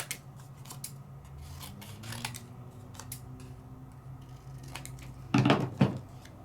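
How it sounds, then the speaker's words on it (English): Scissors snip through paper to trim off marker test markings at a stamping and coloring craft table, a series of quiet, close crisp cuts scattered across the stretch, ending in a louder burst of rapid snips. "So let's cut off some of my markings, just so it's not a distraction."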